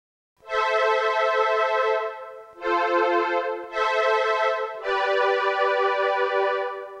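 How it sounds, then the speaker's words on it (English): A classic DX7 strings patch on a MiniDexed synth plays four sustained chords in sequence, bright and fairly loud, each swelling in and fading, with no voices over it. "You can now see I selected the strings from the classic DX7 patches here"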